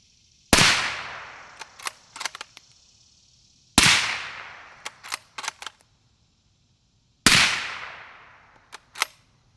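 Three suppressed rifle shots from a Ruger American in 350 Legend firing 150 grain full metal jacket rounds through a Liberty Mystic X suppressor. Each sharp, loud crack decays quickly and is followed by a few quick mechanical clicks.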